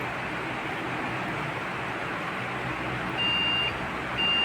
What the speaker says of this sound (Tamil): பிசியில் வந்து ரேமில் ஒரு சவுண்டு வரும், பீப் சவுண்டுன்னு சொல்லுவாங்க